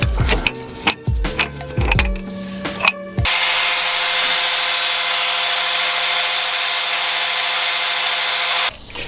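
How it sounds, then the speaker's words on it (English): A few metallic clanks and knocks come first, then a grinder bites in with a loud, steady, harsh grind lasting several seconds, narrowing the sides of a tie rod tool to a smooth point. "I am grinding down just a smooth point for the tool to grab onto, because the aftermarket ones are too wide to fit in that slot"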